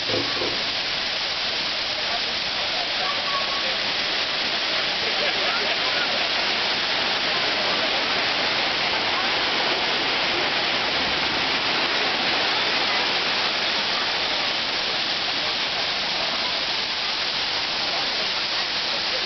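Rushing water of a waterfall at Robert Freeman State Park, a steady broadband roar that holds at an even, fairly loud level throughout with no breaks.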